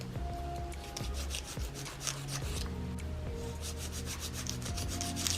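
Nail file rubbing and scraping across the nails of a silicone practice hand, a steady close-up abrasive rasp in repeated strokes, with no talking.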